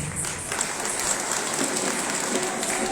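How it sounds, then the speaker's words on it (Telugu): Crowd at a rally for Adivasi rights in Utnoor claps together, a dense, steady wash of applause that fills the whole stretch with no voices on top. "మళ్ళీ ఒకసారి గట్టిగా చప్పట్లు కొడితే"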